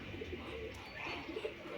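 Soft, low pigeon coos repeat a few times against a quiet outdoor background.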